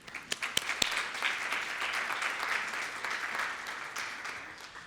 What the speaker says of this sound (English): I want to give you all a round of applause since you've been so great to be here with us today